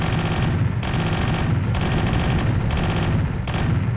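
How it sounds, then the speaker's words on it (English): A plane-mounted grenade launcher in a combat video game fires in bursts, dense rattling reports broken by short pauses, loud and close with no talk. "This has grenade launcher? That does not sound like grenades."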